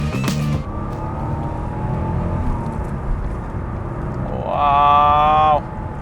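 An Alpine GTA V6 Turbo's engine hums steadily, then revs sharply upward as the car accelerates, a brief loud climb of engine pitch before settling back.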